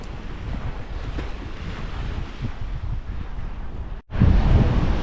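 A seaside breeze buffets the microphone at Nesebar on the Black Sea coast. Steady roaring wind and wash from breaking waves fill the scene, with a brief dropout near the end before a louder gust.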